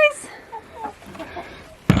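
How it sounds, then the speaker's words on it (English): Hens cluck in short bursts inside a brand new chicken coop, soft and close, with a faint voice in the background and a sharp loud knock or thump at the very end. "The chickens just spent their first night in the brand new coop."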